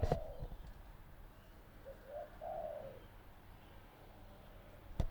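Pigeons cooing outside a house, a few soft low coos in a short run near the middle, faint and somewhat distant against quiet background.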